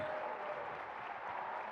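Audience at a university fellowship award ceremony claps for the winners, a faint but continuous wash of applause heard from a distance.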